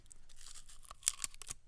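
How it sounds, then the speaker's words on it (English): A wrapper of paper around a cough drop crinkles and tears in sharp, loud, close bursts, several quick crackles with short pauses between them. "That paper is loud."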